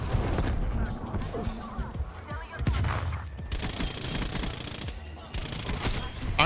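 Rapid bursts of OTs 9 submachine gun fire in the Call of Duty Cold War video game, loud and sustained through most of the clip with short gaps between volleys, with a player talking over it.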